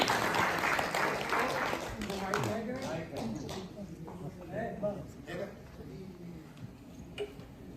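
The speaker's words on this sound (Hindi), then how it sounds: "ताली बजाकर स्वागत करें।" An audience at a stage event in Bhopal claps to welcome a speaker, the dense applause loudest at first and then thinning into scattered claps while a voice talks over it.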